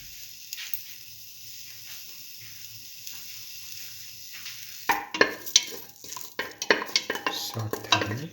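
Shallots sautéing in a pan for a potato coconut stir fry, a faint steady sizzle at first, then louder bursts of stirring and scraping with utensil clinks over the sizzle.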